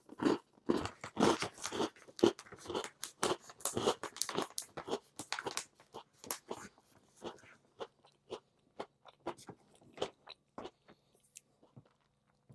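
Crunchy bites and chewing of a cookie with a sugar crust on top, a rapid series of close, sharp crunches that thin out into sparser chews toward the end, with no talking.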